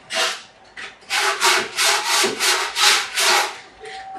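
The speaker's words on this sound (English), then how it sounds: "just round the edges off with a bit of sandpaper like this" Sandpaper rubbed by hand along the sharp edges of planed timber for a Dobsonian telescope build, about eight loud, rhythmic back-and-forth rasping strokes, close up with no talking.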